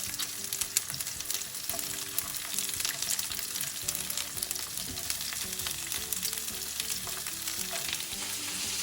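Onions and peppers fry in hot oil over high heat for a chicken curry, a steady, crackling sizzle with occasional stirring scrapes from the pan, close and continuous.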